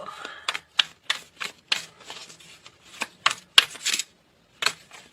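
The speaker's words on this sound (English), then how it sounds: "I know the shuffling can be annoying sometimes" Tarot cards being shuffled by hand in sharp, irregular riffling bursts with short pauses between them, close and crisp, with no talking.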